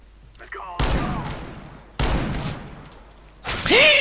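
Gunfire in Counter-Strike: Global Offensive, with two loud bursts of rapid shots that ring out and decay, plus faint game effects between them and a rising whoosh at the end.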